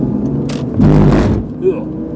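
BMW E46 M3 crossing a cattle grid: a brief rumbling clatter rises over the car's steady engine drone, with a voice speaking over it.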